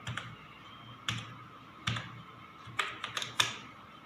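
Several sharp key clicks on a computer keyboard, spaced in small bursts with short pauses between, close and fairly quiet, with no talking.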